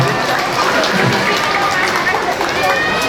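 Dense, steady applause from an audience at a Vesak celebration, a continuous wash of many hands clapping for the whole stretch, with a voice faintly over it.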